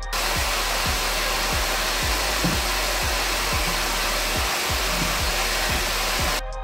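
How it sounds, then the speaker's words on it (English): A vacuum cleaner roars loud and steady up close while cleaning the fabric of a Sparco bucket seat from a Toyota MR2 Spyder, its nozzle dragging across the seat in regular rhythmic strokes. "I'm gonna go back over it one more time with the vacuum"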